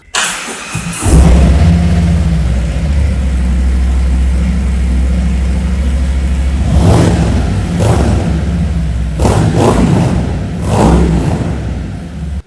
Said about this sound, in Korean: 머플러가 SNS 머플러입니다. 중저음으로 굉장히 소리가 좋습니다.